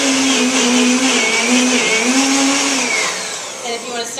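A food processor blends chickpeas into hummus, a loud steady motor whir with wavering pitch as the blades churn the thick mixture, easing off near the end.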